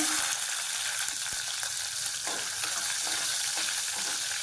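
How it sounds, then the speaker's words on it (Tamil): Small shallots, cracked open, sautéing in oil for a drumstick-leaf soup, giving a steady, close broadband sizzle throughout with a few faint stirring clicks and no talk. "இது லைட்டாக எண்ணெயில் வதங்கினா போதும்"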